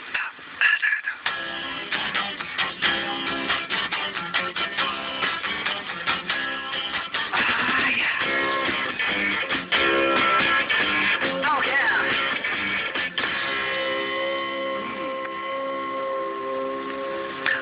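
A song broadcast on Radio Northsea International in 1976, full-band music with dense, continuous mid-range sound, steady and moderately loud throughout with no talk over it.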